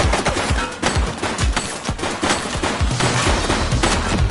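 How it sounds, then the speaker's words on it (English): Rapid bursts of gunfire from the police video game The Precinct on PS5, dense overlapping shots and automatic fire filling the scene loudly and continuously for several seconds, with no talk. "Shots fired!"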